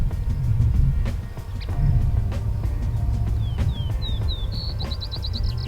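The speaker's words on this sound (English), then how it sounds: "That's the Vesper sparrow calling." A Vesper sparrow gives a short series of thin, rising chirps that end in a quick trill, fairly far off and faint over the low rumble of a vehicle on a road through bison country.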